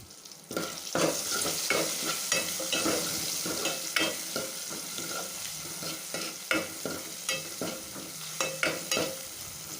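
Rasam spices with turmeric frying in a pan, a soft steady sizzle under frequent quick spoon taps and scrapes against the metal, busier toward the end.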